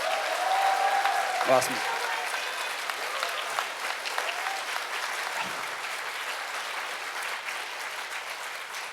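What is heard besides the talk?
audience applause at a concert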